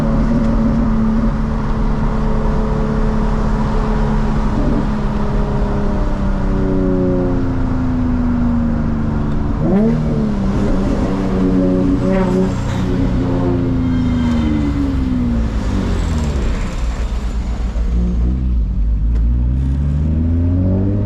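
A 2003 Infiniti G35 coupe with a roughly 500 horsepower VQ engine and aftermarket headers revs loud and close, its exhaust note rising and falling in repeated sweeps over a steady idle rumble.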